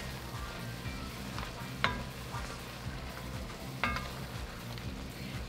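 Beef bourguignon, a classic French stew, being stirred in a single pot over heat, giving a low bubbling sizzle with a couple of sharp scrapes of a utensil against the pot, steady and close.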